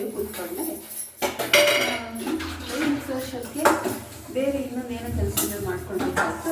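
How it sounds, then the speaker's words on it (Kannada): Pots and dishes clink and clatter repeatedly as a few vessels are washed by hand in a home kitchen, with someone talking over the clatter throughout. "ಸ್ವಲ್ಪ ಪಾತ್ರೆಗಳಿದೆ ಅದು ಕೂಡ ಇವಾಗಲೇ ತೊಳ್ಕೊಂಬಿಡ್ತೀನಿ"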